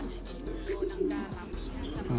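Low, soft pigeon coos murmur close by against a steady background hum, repeating in a few gentle phrases.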